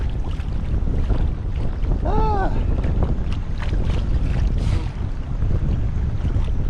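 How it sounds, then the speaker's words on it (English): Strong wind blows across a lake during a kayak fishing outing, producing loud, constant roaring and buffeting against the microphone with lapping water underneath and a brief faint chirp partway through. "If I can just get this wind to stop for a little bit"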